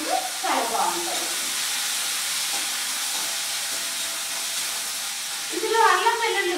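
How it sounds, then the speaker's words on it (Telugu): Tempering spices and curry leaves frying in oil: a steady, sizzling hiss runs throughout, with a voice speaking briefly at the start and again near the end. "పోపు పోపు బాగా ఫ్రై అవ్వాలి"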